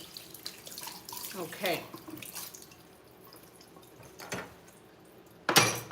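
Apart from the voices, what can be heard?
washing a plate under the tap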